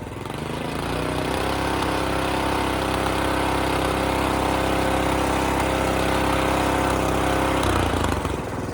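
A DR rototiller's small engine runs loud and close, droning steadily at raised revs for several seconds before the pitch drops near the end, with no talking.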